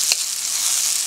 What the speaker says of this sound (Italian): Non deve mai smettere di sfrigolare.